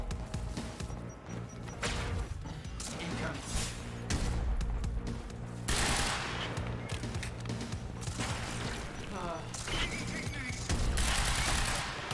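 Sustained LMG machine gun fire in the video game Quantum Break, dense continuous bursts layered with crashes and game effects, loud and near throughout, with a voice faintly under the mix.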